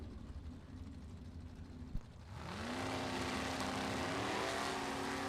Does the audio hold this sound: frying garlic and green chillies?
no